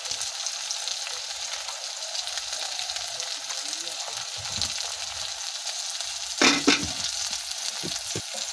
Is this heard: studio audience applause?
no